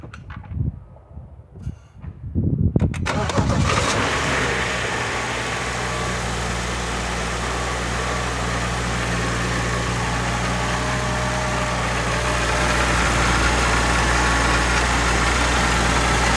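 A 2011 BMW 535i engine cranks and catches after a few seconds of quiet handling noise, then settles into a steady, loud, close idle with a constant low hum for the rest of the clip.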